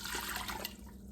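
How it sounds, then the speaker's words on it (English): Two cups of water pour into an Instant Pot over carrots, a steady close splashing gush that thins and trails off near the end, with no talking. "And 2 cups of water."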